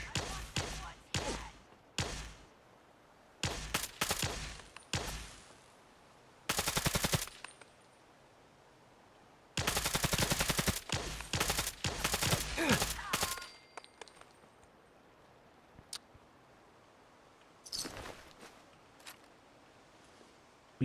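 Billy's armor-piercing rifle fires repeatedly in Saint Billy: Red Summer, loud close shots in irregular clusters, some as rapid bursts, with short pauses and quieter gaps between volleys.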